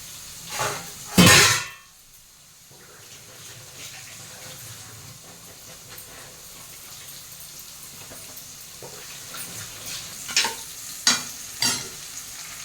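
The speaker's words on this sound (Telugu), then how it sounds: "అల్లం వెల్లుల్లి పేస్టు పచ్చివాసన పోయేదాకా కలుపుకుంటున్నాం" Ginger garlic paste being stirred in a pan at home, with a loud sizzling burst early on, then a quiet stretch of faint scraping and gentle frying, and a few sharp clinks of the spoon toward the end.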